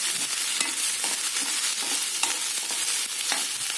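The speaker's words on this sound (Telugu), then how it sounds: "ఈ నూనెలోనే కొద్దిగా లైట్గా వేగినట్టు అవుతుంది." Chopped tomatoes frying lightly in oil in a pan for a leftover chapati dish, with a continuous close sizzle and frequent spatula scrapes and clicks as they are stirred, with no talk.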